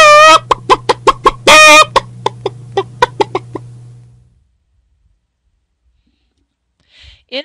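A cartoon chicken in the Alice animation program clucks in a quick series of sharp repeated clucks over a steady hum, fading out, then a brief faint sound near the end.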